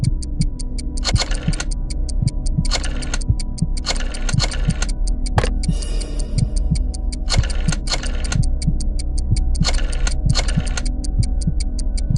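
A rotary phone being dialed in a Jackbox Party Pack 6 game, with steady rapid clicking from the dial and repeated bursts of whirring as it spins back, over a constant low hum.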